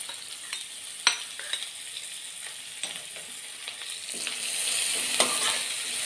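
Onion, ginger and green chili sauté in hot oil for dal fry, a steady close sizzle with occasional stirring clatters from the pan, no voices.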